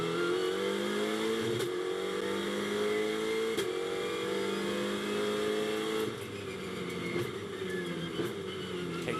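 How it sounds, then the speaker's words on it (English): A GT2 race car at Misano brakes hard for turn 8 and downshifts through the gears, its loud engine note dropping in steps with sharp blips at each shift, close and continuous. "Hard on the brakes for turn 8, down through the gears, turn the car in, easy to run wide."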